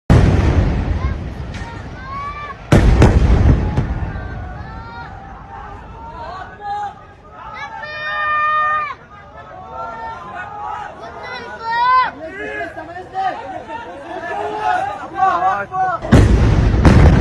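Loud blasts from bombardment and gunfire in Gaza news footage, heavy booms at the start, a few seconds in and at the end, with crowd chatter and voices between them.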